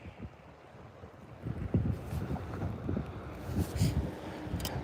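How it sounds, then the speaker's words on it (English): Wind gusts outdoors on the water during bass fishing, buffeting the microphone in rising and falling rumbles with a low, uneven roar and no talking. "Can you guys hear that wind?"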